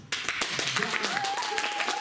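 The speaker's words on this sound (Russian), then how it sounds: "вот я хочу, чтобы сейчас прозвучали аплодисменты именно в ваш адрес" Applause from an audience at an awards ceremony for a recitation contest, a dense continuous patter of many hands clapping, fairly loud and steady with a tone or whistle running underneath.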